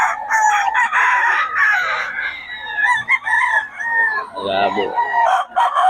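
Roosters crow loudly and repeatedly on a gamefowl farm, overlapping calls filling the air with occasional clucks, while someone speaks briefly nearby.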